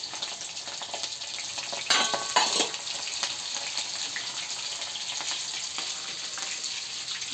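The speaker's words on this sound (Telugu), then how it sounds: "హీట్ అయిన దాంట్లో ఇప్పుడు వెల్లుల్లి వేసుకోవాలి." Garlic dropped into heated oil in a pan, a continuous crackling sizzle with a louder burst of spattering partway through, close and steady with no voices.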